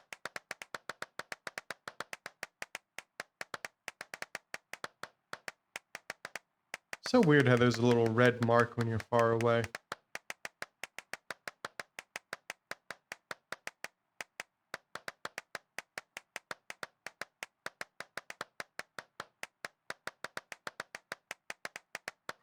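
Rapid, continuous hand clapping inside an abandoned church, a long even run of crisp claps that is interrupted for a few seconds by a person talking before resuming just as fast.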